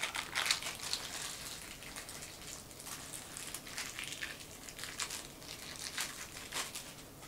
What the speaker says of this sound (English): Pay no mind to me unwrapping stuff.